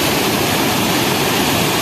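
Flood water rushes loudly and steadily through a drain along a damaged road, a close, dense roar with no talk over it.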